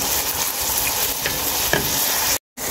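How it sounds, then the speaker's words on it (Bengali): A large batch of chopped onions sizzles loudly and continuously in oil for tehari, a dense close frying hiss with faint stirring touches, ending in a short silent gap. "তেল দেওয়ার পর দিয়ে দিচ্ছি পেঁয়াজ কুচি। পেঁয়াজটা আমি ভালোভাবে ব্রাউন করে ভেজে নেব।"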